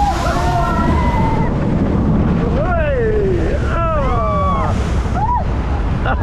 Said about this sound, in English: that was a good splash.